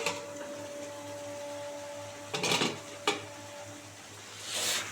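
A lid comes off a covered pan of prawn curry: a metallic clink and scrape, then a second short knock, over a low steady kitchen hum, with a brief rustle at the end.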